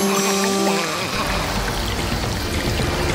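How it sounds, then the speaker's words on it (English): Water gushes steadily from a hose in a cartoon, a loud continuous pouring rush that begins after a brief moment and runs without pause. "turn off the water when you're not using the hose"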